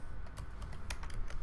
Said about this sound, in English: you just have to type